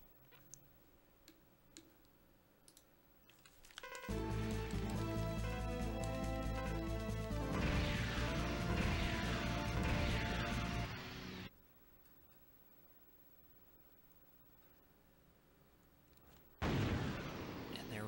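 Enigma Cannon launching in Mega Man X5 on PS1: after faint ticking menu clicks, a loud sustained rumbling blast with layered game sound roars for several seconds, drops away, then surges again at the end.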